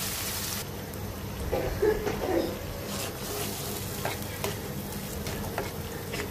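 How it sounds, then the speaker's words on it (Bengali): Spice paste of chili powder and masala fries in a pan for a fish curry, a steady moderate sizzle with stirring scrapes and a brief louder burst near the start, close and without talk. "দিয়ে মশলাটা একটু ভেজে নিব, তারপর পানি দিয়ে দিব অল্প, দিয়ে আবারও মশলাটা কষাবো।"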